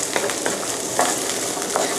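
Raisins and other ingredients are stir-fried in a hot pan, with a continuous sizzle broken by several scraping stirs of the spatula.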